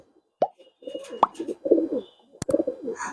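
Pure-bloodline pigeons cooing up close, with soft throaty coos repeating in short bursts, broken by a few sharp plopping clicks and wing or cage knocks.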